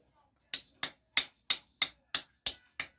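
Eight sharp, evenly spaced knocks pounding the tip of a freshwater river snail shell, close and crisp, with brief silence between strikes.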